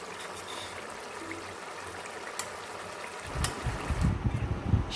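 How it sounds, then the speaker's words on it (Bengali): One cup of water poured into a cooking pot while preparing a Bengali dish, a close, steady trickling stream that swells louder toward the end. "এর মধ্যে দেব 1 কাপ জল। জল দিয়ে ঢাকা দিয়ে ভালো করে সিদ্ধ করে নেব।"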